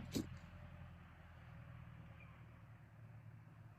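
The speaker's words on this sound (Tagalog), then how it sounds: "murag na tunog ng sasakyan" A distant vehicle rumbles low and faint behind a steady outdoor hush, beginning with a brief sharp knock.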